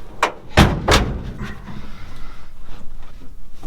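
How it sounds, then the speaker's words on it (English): A truck door on a 1966 Chevy C10 pickup shuts with a couple of sharp, close thuds in quick succession, followed by a low rumbling background with no talk. "His door's shut good."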